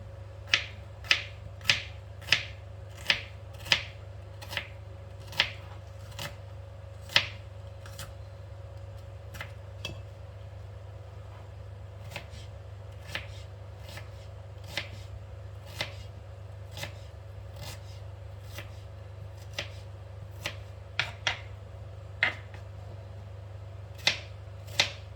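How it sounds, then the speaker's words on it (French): An onion is chopped into small pieces with a knife: a quick run of sharp, close taps early on, then slower scattered cuts, over a steady low hum. "D'abord on va couper notre oignon"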